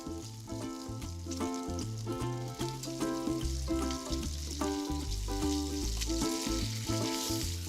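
Salmon paillards sear in a hot pan, giving a loud, continuous close sizzle and crackle of frying with a rhythmic pattern throughout.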